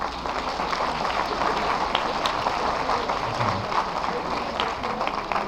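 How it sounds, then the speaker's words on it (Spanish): Classroom applause for a fellow student, a steady, dense wash of clapping held at even loudness, with some voices underneath. "Un aplauso para su compañero."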